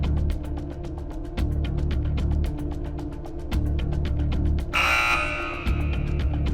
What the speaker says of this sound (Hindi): बजर दबाया है